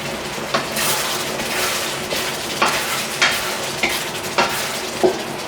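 Vegetables stir fried in a wok over the highest heat give a steady loud sizzle, broken by regular scraping clanks of the spatula tossing the food every half second or so.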